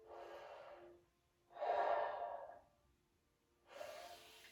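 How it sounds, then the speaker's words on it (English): Slow, audible breaths during a held upper-back stretch: three long exhalations or inhalations, each lasting about a second, close and soft, separated by quiet pauses, with no talking. "Breathe through it."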